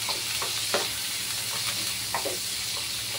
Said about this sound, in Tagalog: ngayon ako ay nagigisa na ng bawang at sibuyas